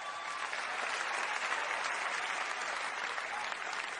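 A large audience at the Grammy Awards applauds with dense, sustained clapping. It holds steady and fairly distant throughout, with no talking.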